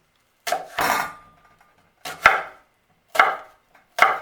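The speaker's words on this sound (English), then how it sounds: "let's slice up an onion" A knife slicing through an onion on a cutting board, giving four crisp chopping knocks spaced about a second apart, close and clear against silence.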